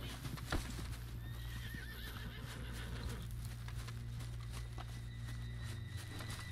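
A horse neighs and whinnies in Red Dead Redemption 2 while hooves clip-clop steadily, over a constant low engine-like hum and scattered game sound effects.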